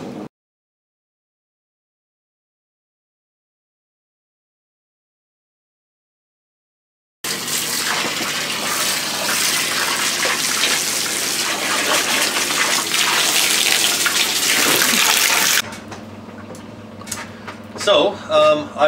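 After several seconds of silence, water sprays and gushes against the walls of a draining spa tub, a loud continuous rush that then drops to lighter splashing and trickling.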